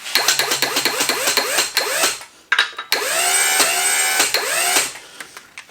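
A 12V hydraulic tube bender bends a tube with loud, whining motor bursts that rise in pitch, stop and restart several times in quick cycles, then settle into one longer sustained whine.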